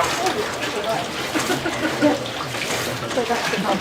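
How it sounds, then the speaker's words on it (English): Water pours and sloshes out of a Jonbuoy man-overboard recovery device in a steady splashing gush at a safety demonstration, with people talking over it. "You're going to get a nice sound when the water comes out."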